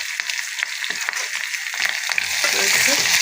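Small shallots sautéing in hot oil with mustard seeds and a pinch of asafoetida, giving a close crackling sizzle that grows denser and louder toward the end, with no talking.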